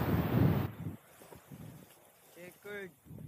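Strong gusty wind buffets the microphone at the start, then quiets to a breezy background with short voices and a brief call.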